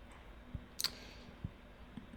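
Mouse clicks on a Mac sound faint and sharp in a quiet room, a few separate clicks spaced irregularly, one quick double click among them.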